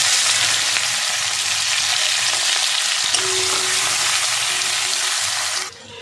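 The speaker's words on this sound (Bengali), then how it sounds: "পেঁয়াজ 2 মিনিট ভেজে নিয়েছি।" Chopped onion frying in hot oil with bay leaf and chilli for a Bengali fish-head muri ghonto, a steady dense sizzle holding loud and even throughout, then dropping abruptly near the end.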